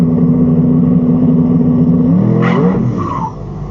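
A Chevrolet Vega launches down a freshly prepped quarter-mile drag strip, its engine droning loud and steady before rising in a sharp revving sweep as the car pulls away and fades slightly.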